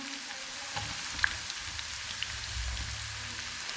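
Browned onions with garlic sizzle steadily in a pan for Punjabi-style saag as tomatoes go in, a dense crackling hiss with a few sharp pops and a low rumble underneath.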